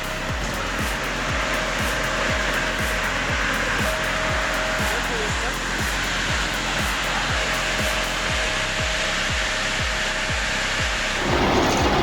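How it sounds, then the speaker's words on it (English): A multi-rip circular saw mill cuts rough timber with a loud, continuous roar of spinning blades and a rhythmic repeated thumping as boards feed through, steady for the whole stretch. "This multi-rip saw is all about consistency."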